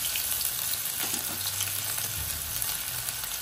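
Onion and chopped garlic fry in hot oil, giving a steady close sizzle with faint stirring scrapes and no talk.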